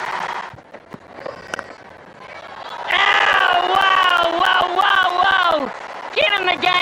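A cricket stadium crowd at a Pakistan versus New Zealand ICC Champions Trophy 2025 match roars and cheers loudly for a boundary four, a sustained swell of many voices with shouting, following a brief stretch of commentary.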